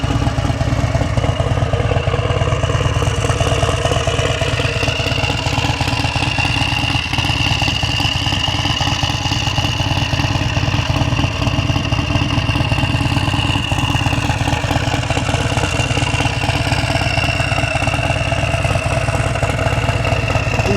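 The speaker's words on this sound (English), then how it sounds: "See the turbo system? We see the waste gate right there. I think that sounds absolutely amazing" A turbocharged Harley-Davidson bagger motorcycle idles up close, a loud, steady, throbbing engine rumble with mechanical clatter and a faint high whine that lasts throughout.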